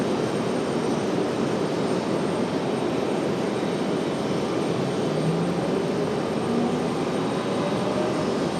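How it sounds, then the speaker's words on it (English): A Delta jet arriving from Minneapolis roars steadily while landing at RDU airport, a loud, sustained broadband engine rush with no talking and no break. "Again, Delta 2699 from Minneapolis up next for arrival."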